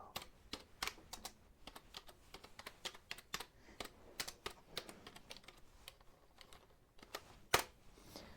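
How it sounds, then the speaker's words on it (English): Soft, close keystrokes on a store computer keyboard, an irregular patter of individual key taps with a few sharper clicks, quiet and intimate with no talking. "let me go ahead and type this into our system"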